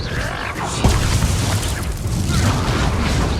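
A spell-casting burst in the Hogwarts Legacy video game, the Expelliarmus disarming spell, lands as a sharp boom amid dense, continuous game noise, with a brief voice underneath.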